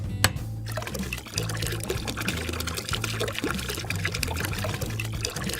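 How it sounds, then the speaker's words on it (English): Water pouring into a small toy bath in a Play-Doh PJ Masks scene, a continuous splashing trickle with bubbly gurgles running steadily throughout, close and moderately loud, with a sharp clack near the start. "So Catboy went over and started to pour the bath."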